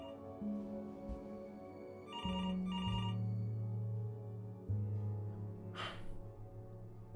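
A telephone rings in the video game Before Your Eyes, giving two short bursts of ringing over a low, sustained musical drone that shifts pitch, with a brief breathy sound near the end and no speech.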